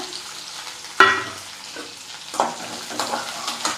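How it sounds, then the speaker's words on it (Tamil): Finely chopped onions frying in a pan with fenugreek leaves for a Tamil-style stir-fry. A sharp sizzle bursts out as they go in, then a steady crackle and light stirring scrapes follow close by, with no talking. "வெங்காயம் நல்லா செவந்து வரணும் நல்லா வதங்கிடணும்"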